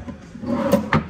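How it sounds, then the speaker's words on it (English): Drawer of a 24-inch bathroom sink vanity sliding open or shut, a short wooden scrape ending in a sharp knock, close and fairly loud, with no talking. "Is this a drawer? I think it is."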